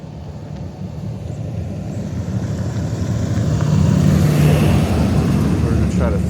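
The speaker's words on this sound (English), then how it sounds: "There's a bus coming." A bus approaching along a road, its low engine rumble and road noise building steadily louder and closer over several seconds against outdoor background.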